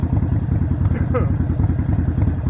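A motorcycle engine runs close by with the clutch held in, giving a steady, loud chugging throb, with a voice heard briefly over it.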